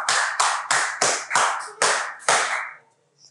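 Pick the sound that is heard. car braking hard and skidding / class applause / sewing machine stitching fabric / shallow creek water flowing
class applause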